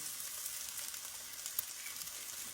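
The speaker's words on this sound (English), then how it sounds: "Cook our sausage, get our onion good." Sausage and onion fry in a pan with a steady, bright sizzle and fine crackling, close and continuous with no talking.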